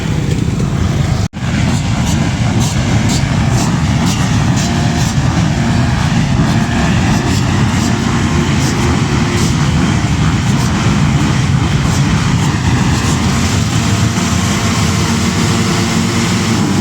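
Motocross motorcycles in a championship race at Hombourg-Budange roar steadily throughout, a dense loud engine drone with a sharp knock near the start.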